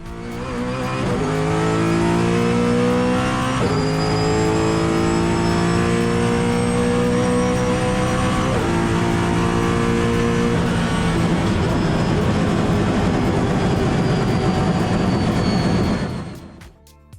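Brabham BT62 race car roars loudly and close, its engine and racing transmission climbing through rising revs with sharp gear changes, then fading out at the end.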